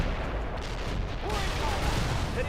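Artillery barrage landing in the World in Conflict video game, a dense rumbling of blasts and booms filling the short stretch, loud and continuous.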